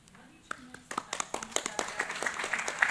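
Conference audience at a high-level event on universal health coverage breaking into scattered clapping that builds into steady applause, with a voice speaking underneath.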